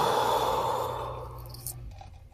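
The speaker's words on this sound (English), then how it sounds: "Let's breathe again. Inhale. And the exhale." A slow, deep breath drawn in and released during a guided breathing exercise, soft and close, fading toward the end with no talking.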